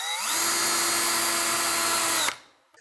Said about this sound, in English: have your other drill motor to do the other work with